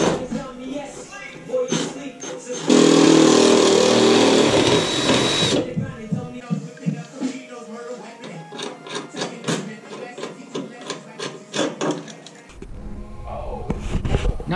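A power drill bores rivet-nut holes through an aero kit body panel on a BMW E30, one loud sustained high whine of several seconds followed by shorter clattering tool noises, with someone talking throughout.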